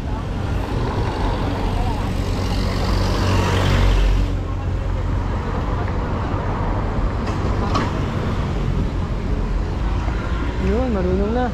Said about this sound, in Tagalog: Ayan, may sasakyan.